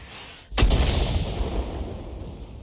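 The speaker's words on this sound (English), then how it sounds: "both Arties are firing at those bushes because they obviously realise the SU-8 is still there" Artillery fires in a tank video game, one sharp loud boom that rolls off into a long rumbling decay, heard alone.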